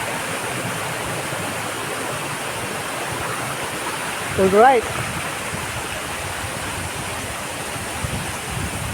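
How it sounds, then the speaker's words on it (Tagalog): Honan Falls roaring as a steady, full wash of falling water close by, continuous throughout with a brief spoken word partway through. "Ito na yung sinasabi nilang Hunan Falls."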